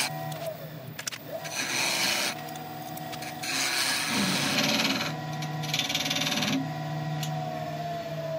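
A woodturning lathe tool scrapes a recess into a spinning resin piece, producing steady close rasping and rubbing in several passes over a continuous motor hum, without speech.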